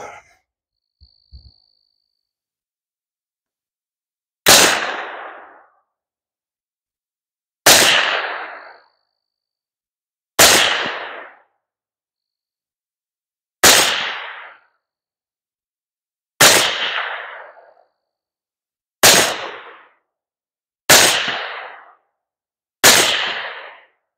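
11.5-inch Aero short-barreled AR-15 rifle fired on a range, eight sharp, loud single shots spaced a few seconds apart, each followed by a short fading echo, with near silence between.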